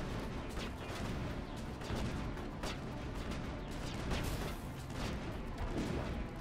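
Enemy gunfire rattles in Mass Effect, a dense and continuous crackle of rapid shots and small bursts from close range, with no voices over it.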